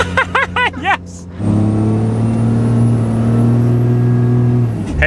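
A heavy truck powered by a 600hp Cummins diesel hauls a 14-wide load down the road, its low engine drone steady and loud after a brief quiet start with a burst of music at the beginning.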